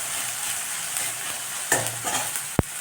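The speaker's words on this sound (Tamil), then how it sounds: "தக்காளி நல்லா வதங்க ஆரம்பிச்சிச்சு" Tomatoes sautéing in a pan while cooking pulao, a steady soft sizzle with stirring scrapes and a sharp utensil knock near the end, close and alone without talk.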